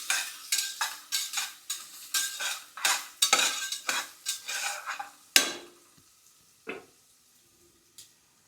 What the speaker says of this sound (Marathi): कांद्याला तेल सुटल्यावर नंतर शेंगदाणे पण चांगले परतून घ्यायचे